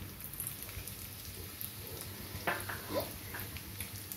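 Asafoetida dropped into melted ghee over a very low flame, a soft steady sizzle and crackle with a couple of brief spits, faint and close, with no voices.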